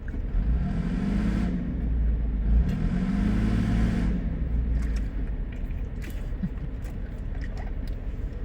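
Car stuck on a roadside, engine revving in two surges while reversing, a low rumbling strain over steady idle, with faint voices in the background.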